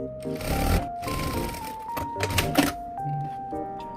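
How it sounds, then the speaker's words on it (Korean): An automatic thread-cutting sewing machine stitching a pants pocket, short bursts of rapid mechanical whirring separated by pauses, with steady electronic tones from the machine running beneath, close and moderately loud. "저는 지금 이게 자동 사절 미싱이라 그냥 그대로 하는 거고"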